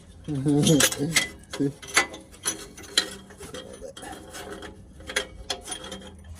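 A ratchet works on a Jeep WK 4.7L engine during a teardown, giving bursts of rapid clicking and metallic clanks in uneven spurts, close by, with a voice talking at times.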